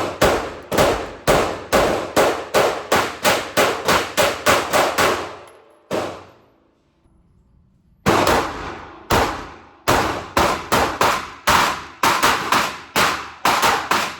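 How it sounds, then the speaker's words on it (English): A customized Glock pistol fired in rapid strings of sharp, loud shots close by, with a brief pause of quiet midway before the shooting resumes, several shooters taking turns with no talking. "Let's have a look at me and the boys shooting it."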